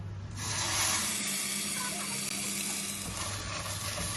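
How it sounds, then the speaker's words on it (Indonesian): Ground spice paste drops into hot oil in a wok and bursts into a loud, close sizzle after a brief quiet start, then settles into steady crackling frying. "Kalau minyaknya udah panas bisa kita masukin bumbunya yang udah dihaluskan."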